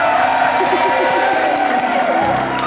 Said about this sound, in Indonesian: Boleh tepuk tangan yang lebih meriah lagi mungkin.